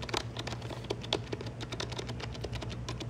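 Steady typing on a Logitech K400 Plus wireless touch keyboard, a rapid run of soft, close key clicks with a low constant hum underneath and no voices.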